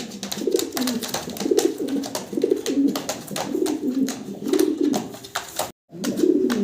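Fancy pigeons kept for sale coo in a steady repeating rhythm, close and clear, with several birds overlapping and a brief dropout near the end.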